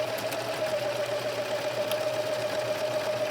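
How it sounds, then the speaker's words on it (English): A sewing machine stitches fabric pieces of an 18-inch doll nightgown together, giving a steady, close, continuous motor whir with no talking. "then we'll sew this really quick"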